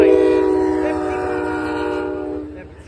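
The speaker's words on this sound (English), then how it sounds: "Here comes Capital Limited, train number 30." Amtrak Capitol Limited eastbound passenger train led by a Genesis locomotive, its horn sounding loud and sustained close by before fading, over the rumble of the passing train.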